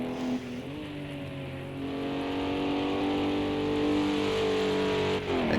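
GT3 race cars lapping the Le Mans Bugatti Circuit in a racing game on a wet track: a loud, sustained engine drone that climbs steadily in pitch as the car accelerates, close and continuous.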